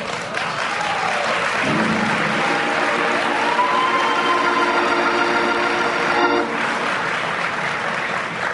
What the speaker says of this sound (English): with polite applause throughout the speech